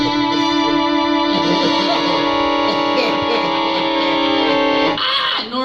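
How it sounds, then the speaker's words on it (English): A scary-movie death sound effect, a sustained eerie tone with heavy effects and echo, loud and continuous for several seconds before breaking off near the end. "This is what it sounds like when somebody's going to die in a scary movie."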